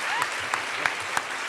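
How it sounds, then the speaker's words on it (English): An audience applauds panelists at a United Way kick-off event, a brief burst of steady, dense clapping from a crowd in a hall. "Let's give our panelists another round of applause, please."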